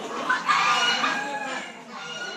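Heritage breed chickens cluck and crow in a busy poultry pavilion at a heirloom expo, the calls overlapping steadily with a brief raised crow near the start amid crowd murmur.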